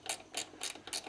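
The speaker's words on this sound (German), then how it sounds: "Dann könnt ihr auch die Klemme an dem Halter wieder festziehen." Ratchet tightening a radiator hose clamp on a Porsche 924S/944, four quick, close, crisp clicking pawl bursts in an even rhythm with no talk.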